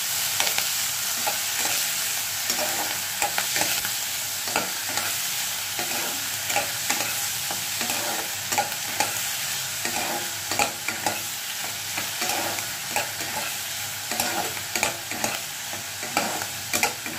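Boiled eggs sizzle steadily in hot oil with a mustard-seed tempering while a spoon stirs and scrapes them around the pan in a repeating rhythm, close up and without talk.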